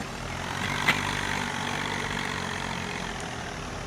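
A small vintage tractor idling in Farming Simulator 19, giving a steady, low engine drone that holds even throughout with no talking.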